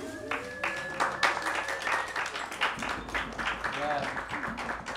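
Scattered audience applause follows a live performance, a loose patter of clapping hands in a room, moderately faint and steady over a few seconds with no clear talk.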